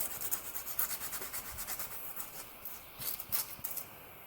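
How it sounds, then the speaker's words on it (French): A bicycle inner tube is rubbed briskly all around its surface to clean it before gluing, giving steady close scratchy strokes in an uneven rhythm with no voices. "Frottez bien sur les côtés, partout bien autour."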